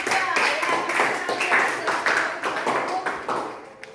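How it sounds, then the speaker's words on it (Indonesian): A school class claps for a student group, a loose burst of hand claps with uneven, distinct strikes and voices mixed in, gradually thinning out toward the end. "Kita beri tepuk tangan dulu untuk kelompok 2"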